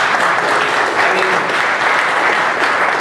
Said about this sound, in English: can everybody give him a round of applause?